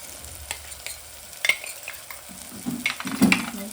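Spice mixture for sambar — chilli, garlic, red chilli powder, coriander-cumin powder, sambar masala and turmeric — stirred in a pan with a spoon, soft scraping strokes over a gentle sizzle, growing busier and louder toward the end; no voices.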